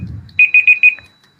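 A laptop timer alarm signals that time is up. Four bright, evenly spaced electronic beeps sound close and clear after a brief low rumble, then fade to silence.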